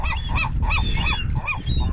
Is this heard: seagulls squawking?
yes